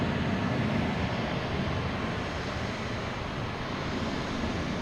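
A JetBlue Airbus A320 takes off from Boston Logan toward Tampa, a steady broadband jet roar holding at even loudness throughout, with no voices.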